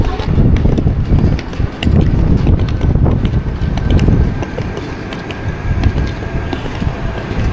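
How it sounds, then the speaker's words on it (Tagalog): Strong wind in Copenhagen roars steadily into the microphone, a loud continuous rumble with gusting buffets throughout. "Grabe yung hangin."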